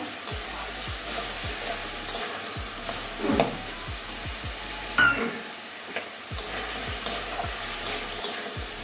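Raw jackfruit seeds sauté in hot oil with spices, a steady close sizzle broken by repeated scraping stirs of a spatula against the pan, with no talking.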